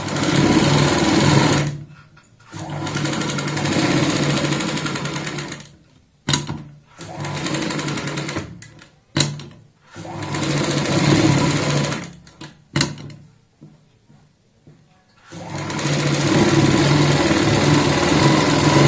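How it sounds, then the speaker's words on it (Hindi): An electric sewing machine runs foot-width seams on fabric for a girl's designer top, loud rapid whirring bursts that stop and restart several times with short silent gaps between them. "यहाँ पे 1 पैर चौड़ाई वाली सिलाई लगाते हैं"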